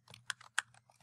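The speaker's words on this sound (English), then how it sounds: "Type into my calculator." Calculator keys tapped in a quick irregular burst of about seven sharp, close clicks, each press distinct over a low steady hum.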